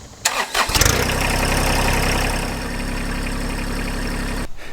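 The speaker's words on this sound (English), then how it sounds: "nearly every time I start the tractor for whatever reason" A tractor engine with an exhaust turndown cranks with a few sputtering bursts, catches, and settles into a loud steady idle that runs until a sudden cut near the end.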